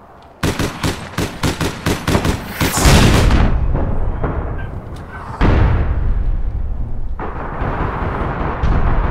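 Rapid automatic gunfire bursts crackle loudly in a tight rhythm, then heavy explosions boom and rumble twice, with RPG blasts in the online shooter APB Reloaded.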